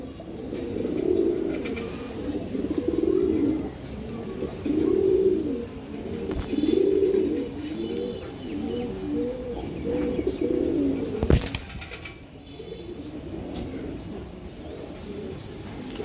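Giribaz racing pigeons from tournament lines coo in distinct, repeated bursts of throaty rolling calls, nearby and fairly loud, pausing between phrases, with a sharp knock near the end and quieter moments after.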